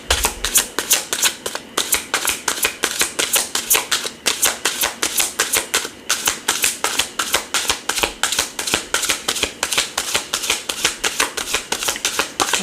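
Tarot cards being shuffled, a fast, steady riffle of crisp card slaps and taps, close and loud, continuing without pause.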